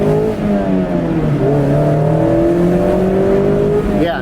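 A tuned 2017 Mazda Miata MX-5 RF with an aftermarket tune accelerates hard through the gears, its engine note climbing steadily and dropping at each shift, loud and close from inside the car.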